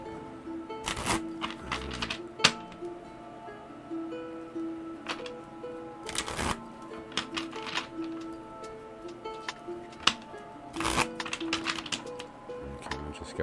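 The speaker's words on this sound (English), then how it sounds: "Okay, I'll just get this kind of shuffled up a little bit for the next one." A Deviant Moon tarot deck is shuffled by hand in soft, irregular riffles and card clicks, quiet and close, with occasional sharper snaps and faint background hum.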